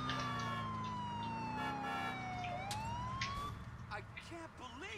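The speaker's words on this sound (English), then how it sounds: "Yes, another police car." Police siren in Grand Theft Auto IV, loud and close, its wailing pitch sliding down then back up over a bed of game engine and traffic noise, with no talking.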